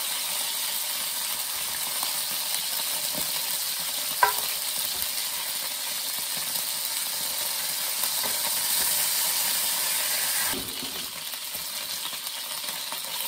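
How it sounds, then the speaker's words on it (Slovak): Onion sautéing in oil in a pan gives a steady, soft sizzle and hiss throughout, with one sharp metallic clink partway through and a slight drop in level near the end; no one speaks. "Na oleji som orestoval cibuľu."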